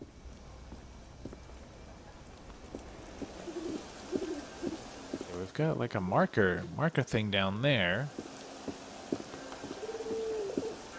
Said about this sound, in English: Some birds, some pigeons.